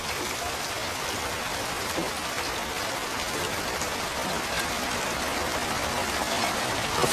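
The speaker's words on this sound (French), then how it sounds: "La pluie." Steady, dense rain pours down, a constant broadband hiss of drops hitting surfaces with no pauses or voices.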